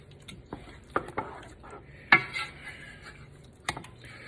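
A spoon stirs through a thick spaghetti sauce in a pot, giving scattered knocks and scrapes against the metal, one sharper clank, and soft wet squishing in between, close and fairly quiet.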